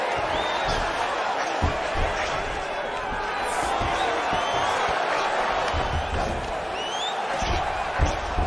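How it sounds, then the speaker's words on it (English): An arena crowd at a UFC fight roars in a continuous dense wash of cheering, loud and unbroken, while commentators talk over it. "Oh, huge pop from the crowd as the fighters get back up to their feet."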